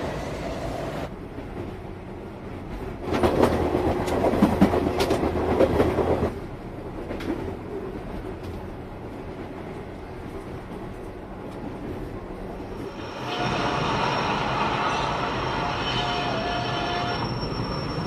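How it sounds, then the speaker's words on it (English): A train pulls into a snowy station in Japan on the line bound for Takasaki, with a steady rumbling roll, a louder clattering passage midway and a rising high brake squeal as it slows; no talking. "Line 8 from Ashikaga Mabashi and bound for Takasaki is now arriving."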